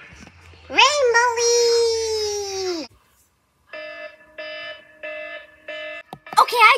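A cartoon timer alarm rings as a steady run of repeated electronic beeps in short even pulses, following a high animated voice and ending as another voice cuts in.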